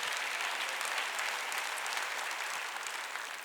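A church congregation at a Wednesday worship service claps together in sustained, dense applause that holds steady for several seconds and then eases slightly, heard from within the room.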